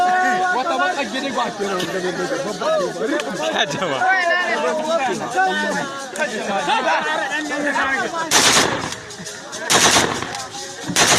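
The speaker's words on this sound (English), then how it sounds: "You get the gunshot." Rapid bursts of gunfire crack out amid shouting and excited voices in a Nigerian street setting, the loud volleys coming near the end over a tense crowd.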